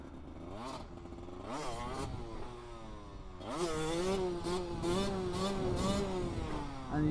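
A small 50cc-125cc motorcycle revs up and down in rising, falling bursts, then holds a louder sustained high rev with rhythmic throttle blips, heard fairly close with no talking.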